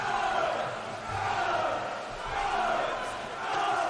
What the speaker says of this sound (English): We can really hear the crowd picking up in this last 25.